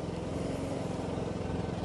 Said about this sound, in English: Just doing the last bit with the leaf blower now.